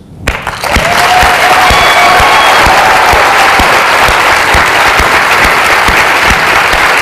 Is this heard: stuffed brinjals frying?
no